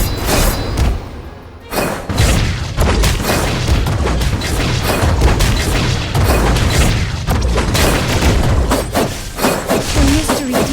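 Within a multiplayer battle video game, a turret is destroyed amid dense, loud combat with repeated booms, thuds and crashing impacts that run almost without pause, and an announcer voice is heard over the chaos.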